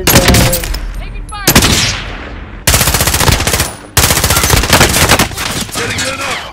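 Loud, rapid automatic gunfire from Call of Duty Modern Warfare plays in dense bursts separated by brief gaps, close and dominating.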